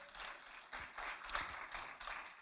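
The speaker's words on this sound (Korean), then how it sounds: "우리 다시 한번 하나님께 박수로 영광 돌립니다." A church congregation at a Friday night service claps together in repeated bursts of applause, moderately distant and without talk over it.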